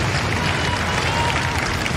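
Crowd applauding and cheering at the finish of a rowing regatta race, a dense steady roar of clapping and voices over the short stretch.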